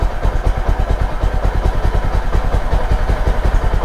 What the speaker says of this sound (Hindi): देखो बाइक का स्पीड बढ़ जाएगा ऑटोमेटिकली,